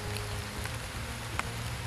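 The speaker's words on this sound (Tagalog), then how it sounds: "kusog-kusog na mong ulan jud." Heavy rain pours down steadily on surfaces nearby, a dense continuous hiss with a few sharper drop impacts and no talking.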